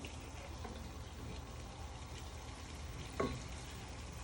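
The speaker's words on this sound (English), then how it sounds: "you want to give it a good stir" Flour being stirred into a pan for carbonara gives off a faint, steady sizzle with soft scraping movement throughout and one brief louder knock near the end.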